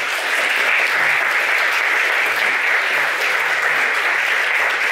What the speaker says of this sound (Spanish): impartida por el licenciado Martín Arenas, a quien les pido un caluroso aplauso, por favor.